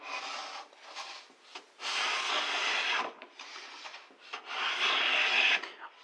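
Hand plane shaving the edge of a veneered wood door on a shooting board, several long rasping strokes with brief pauses between them, close and clear with no talking.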